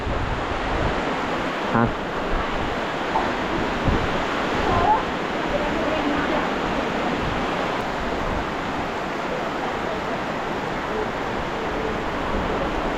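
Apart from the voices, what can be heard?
heavy rain and flowing rainwater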